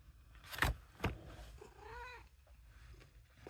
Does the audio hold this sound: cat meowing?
yes